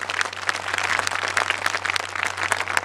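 Loud, dense audience applause at a women's political gathering of the Aam Aadmi Party, steady rapid clapping from many hands sustained throughout with no voices over it.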